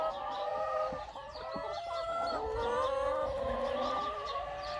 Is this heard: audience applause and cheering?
no